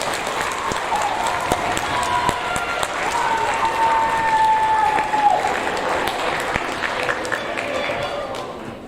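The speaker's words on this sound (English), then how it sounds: "And one more round of applause, please." Audience applause at a 6th grade awards ceremony, a sustained clatter of many hands clapping that swells in the middle and fades at the end, with a voice speaking over it.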